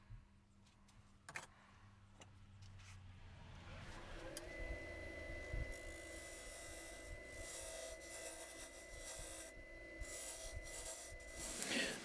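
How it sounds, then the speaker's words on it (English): Spindle roughing gouge cutting a spinning wooden goblet blank on a lathe: a steady, loud rasping scrape with a constant motor hum underneath, starting after a few seconds of quieter handling and continuing without a break. "Using a spindle roughing gouge to remove as much bulk as I can, really."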